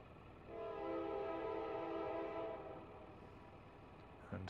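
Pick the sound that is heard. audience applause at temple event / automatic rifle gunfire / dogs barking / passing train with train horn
passing train with train horn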